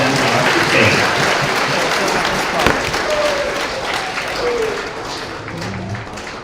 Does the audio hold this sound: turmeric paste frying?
no